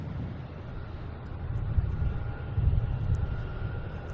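An airliner at Boston Logan, flight 774 arriving from Aruba, gives off a low, steady engine rumble that swells slightly near the end, heard from a distance under light wind noise.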